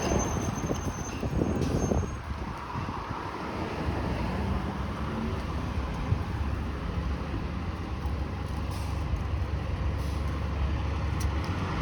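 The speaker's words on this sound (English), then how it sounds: "Here comes bus number 90." City bus number 90 bound for Bathurst Station passes on a Toronto street, with a hiss of air brakes early on and then a steady, loud rumble of traffic noise, no talking.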